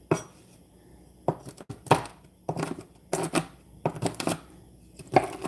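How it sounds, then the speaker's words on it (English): Nuts for pesto chopped with a knife on a board, a series of close, sharp irregular chops in short bursts separated by brief pauses. "Now, they tell me to chop these nuts"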